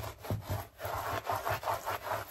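A microfibre cloth rubbed briskly back and forth over a wooden lichen bowl, a close rhythmic swishing scrub of about half a dozen strokes with no talking.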